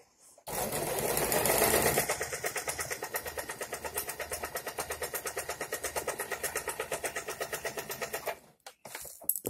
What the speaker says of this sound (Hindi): अब यहाँ पे आर्म होल साइड मेरा बचा हुआ है तो मैं वहां पर भी और स्टिचिंग लगा लेती हूँ